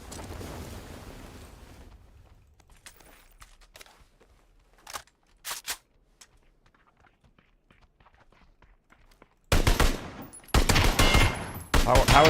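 Gunfire in a PUBG-style battle royale game: scattered sharp shots early, then loud bursts of automatic fire near the end, set against quieter ambience and footsteps.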